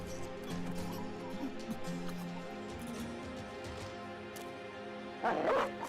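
A dog barks and whimpers in the video game Battle Brothers, with repeated short yips and whines over a steady game soundscape, and a louder burst near the end.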